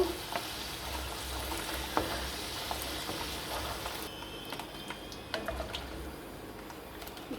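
Raw banana pieces frying in hot oil, giving a steady, fairly quiet sizzle throughout with a few soft pops and stirring clicks and no talking.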